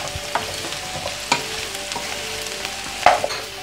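Cauliflower, potatoes and garlic frying together in a pan, giving a soft steady sizzle broken by a few clacks and scrapes of stirring, one louder scrape near the end.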